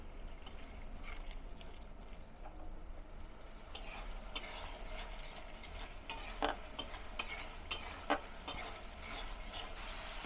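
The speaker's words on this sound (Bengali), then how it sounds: "এবার ঢাকনাটা উঠে আমি মশলাগুলো একটু নাড়াচাড়া করে নিব।" Spices for a red lentil and Malabar spinach dish being stirred in oil in a pan, soft scraping and stirring over a low steady sizzle, with a few brief clinks, close and fairly quiet.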